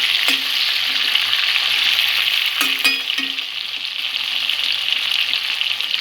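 Cauliflower pieces frying lightly in a pan over a medium gas flame, a steady close hiss of oil with a few soft clinks and stirring taps from a utensil against the pan, no voices.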